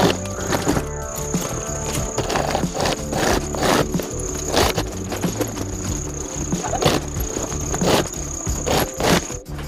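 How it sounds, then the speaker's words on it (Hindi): A sewing machine stitches the seam of a handmade dhol bag, producing a fast, regular mechanical clatter of repeated needle strokes with a thin steady whine above it, close and continuous. "इस तरह से पकड़ कर हम इसको पूरा सिलाई कर लेंगे"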